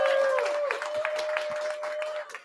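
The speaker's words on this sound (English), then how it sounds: "clap it up." A small crowd at a live podcast recording claps for a guest, giving a few scattered, uneven hand claps under a steady tone and some background voices.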